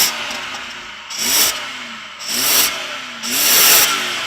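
A 3.6-litre V8 car engine revs hard three times in a row, each burst rising and falling with pauses of lower rumble between, close and loud.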